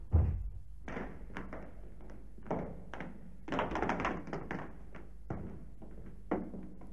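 A heavy door in an old house opens onto a cellar in a radio drama, with a low thunk followed by scattered taps, creaks and footsteps that come close and stay fairly quiet.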